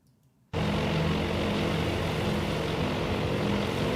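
Aircraft engines of an incoming air raid in the Task Force Admiral naval warfare video game, a dense loud droning roar that cuts in suddenly after a near-silent moment and holds steady.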